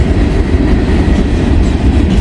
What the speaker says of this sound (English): Wisconsin Central. Yeah, severely underpowered train. It keeps coming around the bend.